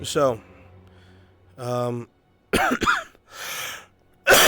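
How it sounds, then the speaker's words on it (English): Several harsh coughs from a person in a VRChat roleplay session, bursting out in short clusters between stretches of talk, fairly loud and close. "excuse me for all the fucking coughing"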